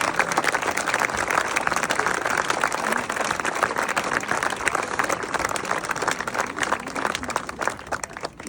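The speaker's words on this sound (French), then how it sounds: "Applaudissez-vous, vous le méritez." An audience at the inauguration of a new local premises applauds itself: dense, steady crowd clapping fills the whole stretch at an even, fairly loud level with no voices over it.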